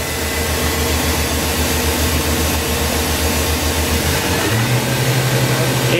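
A 2007 Fadal 4020HT vertical machining center spindle spins at 10,000 RPM, giving a steady, loud mechanical hum with a sustained tone that shifts to a different pitch near the end, with no talking.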